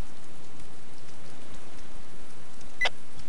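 Steady hiss of rain falling in the DayZ mod for Arma 2, a continuous wash of drops with no speech and one brief sharp tick near the end.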